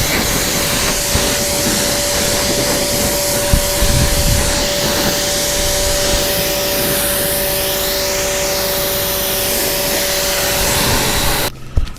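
A pressure washer or hose sprays water over a 1961 Cadillac Coupe DeVille as it is rinsed, a loud, steady hiss with a constant machine whine underneath that cuts off abruptly near the end.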